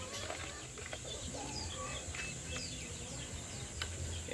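A fighting rooster being shampooed and bathed makes brief, soft clucks and chirps, with splashing and handling noises close by under a steady low background.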